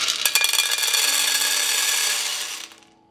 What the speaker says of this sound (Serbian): Ovdje imam 600 g šarenog pasulja i sad ću ga sipati u šer.